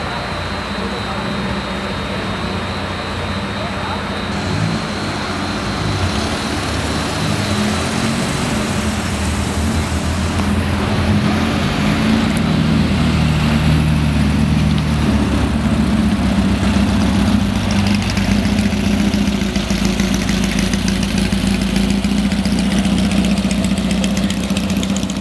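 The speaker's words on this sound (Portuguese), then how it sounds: "Honda Civic, sétima geração." A seventh-generation Honda Civic's engine drones steadily with a low rumble that grows fuller midway, under background voices.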